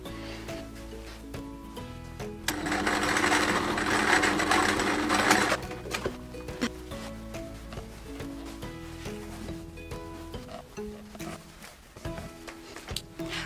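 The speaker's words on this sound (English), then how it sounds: "I'm going to stitch these two together first and then these two together, creating two halves." Domestic sewing machine stitching patchwork quilt squares together, a steady close mechanical whir for a few seconds, then slower intermittent stitching with handling clicks and fabric rustle.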